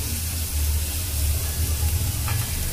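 Vegetables sautéing in a pan (peas, red capsicum, carrot), a steady close sizzle with faint stirring, no voices.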